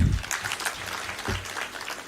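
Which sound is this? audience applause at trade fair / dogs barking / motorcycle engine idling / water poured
audience applause at trade fair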